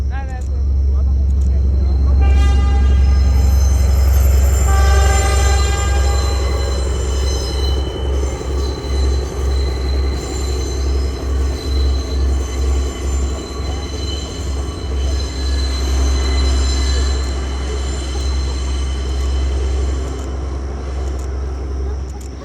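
A train crosses a bridge in Ella, Sri Lanka, with a loud, steady rumble and rhythmic clatter of wheels and metallic squeals lasting throughout. Voices can be heard faintly under the noise.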